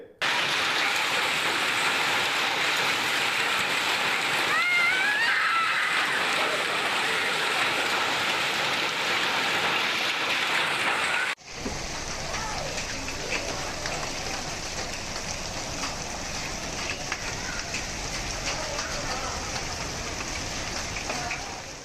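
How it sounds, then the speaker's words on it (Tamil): Heavy hail and rain pour down in a dense, continuous hiss in Vaniyambadi, the sound shifting abruptly midway to a slightly softer, wetter downpour. "வாணியம்பாடி சுற்றுப்பகுதிகளிலும் ஆலங்கட்டி மழை பெய்தது."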